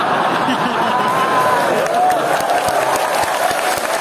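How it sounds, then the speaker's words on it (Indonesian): Campus audience at a university Ramadan event breaking into applause, steady clapping mixed with crowd murmur and a few voices underneath. "Kenapa tepuk tangan nih?"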